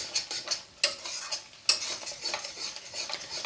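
Small capsicums and two green chillies stirred in a hot pan for capsicum paneer, sharp spatula scrapes and clinks over a light sizzle, close and crisp with no voices.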